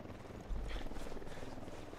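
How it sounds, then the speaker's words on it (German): Helicopter in the video game Ghost Recon Wildlands, a faint, steady rotor thrum with low rhythmic chopping that holds throughout, heard at a distance. "Wir haben einen Helikopter."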